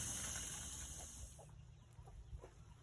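Buff Orpington chickens in a backyard flock cluck softly in short, scattered calls over a steady background hum, with no talk.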